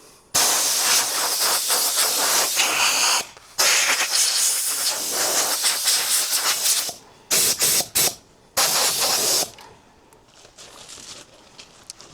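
Compressed air from a compressor airline blasts a freshly prepared part in bursts, a loud, close, harsh hiss running for several seconds, cutting off and restarting in short choppy puffs before tapering into fainter sputters.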